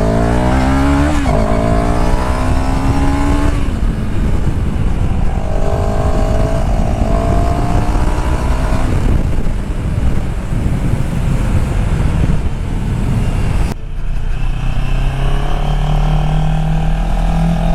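A CF Moto 700 CL-X Heritage motorcycle on a leisurely Sunday ride, its engine droning and rising and falling through gear changes under heavy wind rush, loud and close throughout with no talk.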